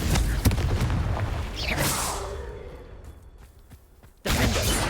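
A Confringo blasting spell bursts in Hogwarts Legacy, a sharp whooshing blast with a rumbling tail that fades, then another loud impact cuts in abruptly near the end.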